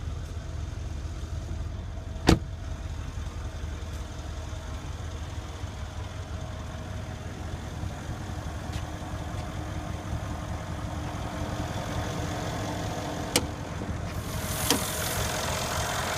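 A 2015 Mercedes-Benz E63 AMG S-Model 4Matic with a 5.5 liter V8 bi-turbo engine idles with the hood open, a steady low rumble throughout with a couple of faint clicks.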